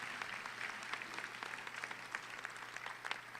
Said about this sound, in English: please stand so we can give you some applause